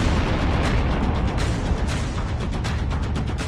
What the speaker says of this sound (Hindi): चंद सेकंड बाद आसमान से बारूद बरसा और पूरी इमारत जमींदोज हो गई।